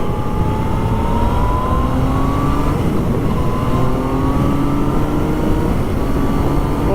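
A Yamaha FZ-09 motorcycle accelerates hard and steadily, its engine note climbing through rising pitch sweeps, loud and close throughout with constant roar and wind noise, no talking.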